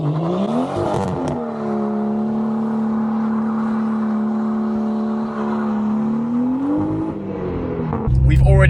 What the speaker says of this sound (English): let's get a cool burnout with a one-wheel peel